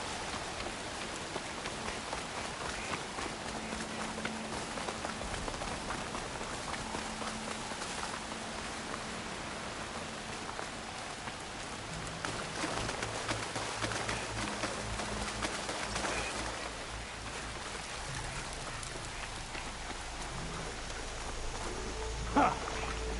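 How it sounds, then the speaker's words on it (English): Steady rain pours down in the game Horizon Forbidden West, a continuous hiss of drops on surfaces that holds at an even level throughout, with low game ambience beneath. "Rain's drowning out other sounds."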